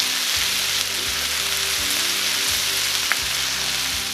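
Onion sizzles steadily in oil in a pan after salt is added, a dense crackling frying hiss with a low hum underneath throughout, and no voices.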